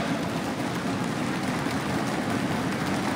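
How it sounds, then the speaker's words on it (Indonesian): A hall audience at the Democratic Party's sixth congress in Indonesia claps steadily, a dense, even wash of applause that holds at constant loudness throughout without speech. "Boleh kita berikan tepuk tangan yang paling meriah Bapak Ibu serta hadirin sekalian."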